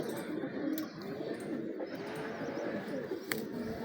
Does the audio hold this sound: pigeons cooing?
yes